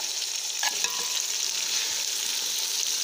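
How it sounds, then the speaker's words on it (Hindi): Beef keema and peas with spices sizzle loudly in a hot pan, a dense steady frying hiss with a few soft stirring scrapes near the start, no voices. "इसलिए हम मसाले के साथ इसको फ्राई करेंगे"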